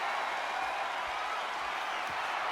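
Steady roar of a wrestling arena crowd in WWE 2K26, a broad constant wash of cheering and murmur at moderate level with no distinct claps or voices standing out.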